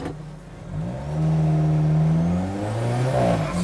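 An Alfa Romeo 4C pulls away hard in first gear in race mode, its engine note climbing steadily from a low growl into a rising, loud rev with clear harmonic whine, heard close from inside the car without talk.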